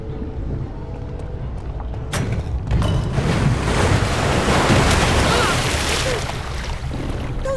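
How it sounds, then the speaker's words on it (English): Rushing waterfalls released by pressure plates in Minecraft Story Mode, a broad steady roar of falling water that swells after a sharp onset and holds loud and continuous to the end. "Those pressure plates release waterfalls upstairs."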